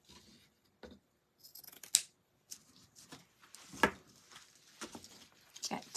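Scissors trim lace from Dollar Tree, making quiet, irregular snips and rustles close by, with two sharper cuts standing out among softer handling sounds.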